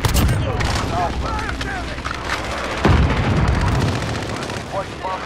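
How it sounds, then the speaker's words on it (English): Precision airstrike explosions in Call of Duty: Modern Warfare, a dense, continuous barrage of loud rumbling blasts and crackling booms, with one heavier impact near the middle, under radio-style voice callouts. "Friendly precision airstrike on the way."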